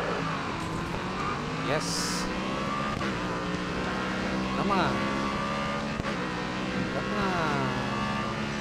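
Audi R5 race car engine in GRID Autosport droning loudly and continuously with rising and falling revs through gear changes, close up, with someone briefly talking over it.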